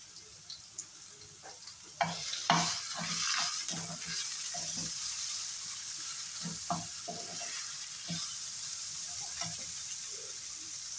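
Onion, garlic and green chilli fry in oil with a constant hissing sizzle, broken by repeated scrapes and clinks of a spoon stirring the pan at close range, with no voices.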